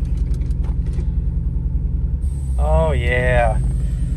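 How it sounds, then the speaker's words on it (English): A Mazda Miata with a failed clutch cylinder rumbles low and steady while being bump started and driven, and a voice speaks briefly over the engine near the end. "Oh, don't mind the bump start I have to do."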